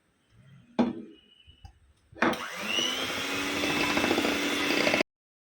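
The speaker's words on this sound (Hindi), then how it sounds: "अब ये पूरा आधा किलो पीसी हुई चीनी डालेंगे और इसको भी अच्छे से फेंट लेंगे ये अंडे के साथ में" An electric hand beater whips half a kilo of powdered sugar into eggs for a Kokani rava cake batter. After a couple of brief knocks, the motor whirs steadily and close for about three seconds, then cuts off.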